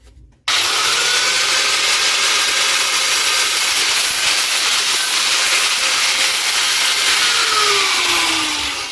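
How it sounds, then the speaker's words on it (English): An angle grinder grinds the sharp edge off a steel flat bar in a workshop, starting abruptly and holding a loud, steady, hissing whine for several seconds without talk. "I'll grind off the sharp edge and then we're ready to start bending it."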